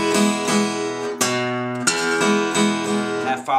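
Acoustic blues guitar playing a transition phrase: a few strummed, ringing chords in an uneven rhythm, played solo and close.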